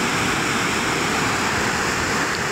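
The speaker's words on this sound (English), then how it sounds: "So many waterfall." Waterfalls in Iceland roaring as a dense, steady wash of rushing water, loud and continuous with no voices.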